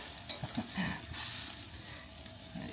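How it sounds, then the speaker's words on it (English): Porterhouse steaks searing over a barbecue fire, a steady crackling sizzle with pops and faint shifting noises, close and soft, no one speaking. "So just going to let those char the sear."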